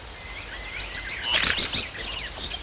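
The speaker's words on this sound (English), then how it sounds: "And the wood warbler." Wood warbler singing in a woodland canopy: a brief high, bright trill of rapid notes rising out of a steady, hissy ambient background, moderately near, with no voices.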